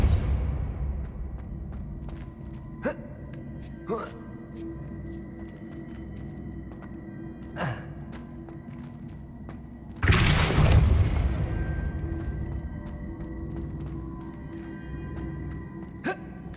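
Depulso spell cast in Hogwarts Legacy, a sudden loud whooshing burst with a deep boom that decays over a couple of seconds, set among ambient game hum and occasional soft thumps.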